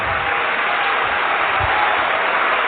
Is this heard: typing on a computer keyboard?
no